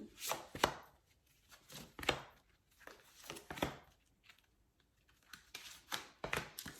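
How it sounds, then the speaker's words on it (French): A deck of oracle cards is cut and handled, with soft papery shuffles, taps and riffling flicks in uneven bursts, quiet and close, with no talking. "Donc je coupe et je vais mettre le dos du deck ici."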